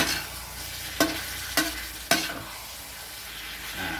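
Pork stir-fries with curry paste and long beans in a hot pan, giving a steady loud sizzle broken by three sharp scrapes of the spatula, with no voices.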